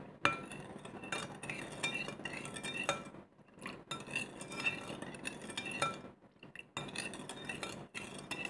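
A utensil stirs green mango slices through melted sugar in a pan, giving close clinks and scrapes in repeated bursts with brief pauses between them.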